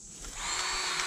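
A grease gun pumps grease into a fitting on a Kubota KX71 mini excavator, giving a steady, close hissing squeeze that builds after a quiet start and holds for about a second.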